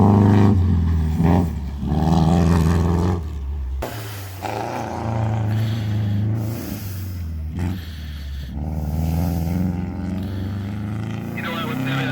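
A race car engine roars loudly on the track at an amateur endurance race, a heavy, rough drone that surges and dips, with voices talking over it.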